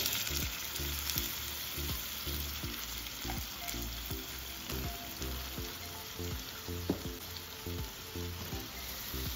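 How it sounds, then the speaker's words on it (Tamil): Pumpkin and cowpeas frying with masala in a pan for a tamarind curry, a continuous close sizzle broken by regular scraping stirs of a spoon against the vessel, with no talking. "போட்டு எல்லாத்தையும் மிக்ஸ் பண்ணி விட்டு காயை வேக விடுவோம்."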